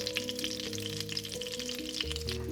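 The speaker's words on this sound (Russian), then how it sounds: "выкладываем рулетики и жарим на среднем огне, пока не образуется красивая корочка" Zucchini rolls filled with cheese fry in vegetable oil in a pan over medium heat, giving a steady, crackling sizzle. A faint tonal hum runs underneath, and no one talks.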